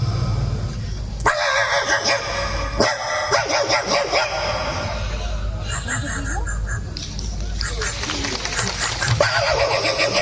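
On a festival stage, a mimicry performer vocally imitates a dog barking from far away, a series of barks and howls that are loud through the speakers, with talk and audience noise around them.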